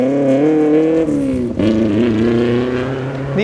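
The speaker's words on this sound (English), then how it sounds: "Sounds like he's having a brake lockup issue." Rally car on a 2012 STPR rally stage, its all-wheel-drive engine droning loud and close with wavering revs, dipping briefly as the brakes lock up, then pulling again.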